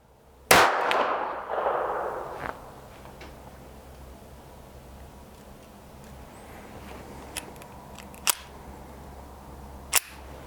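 A single shot from a Ruger LCP II .22 Lite pocket pistol loaded with Winchester rounds, a sharp, loud crack that fades into a short ringing tail, followed later by a few faint mechanical clicks.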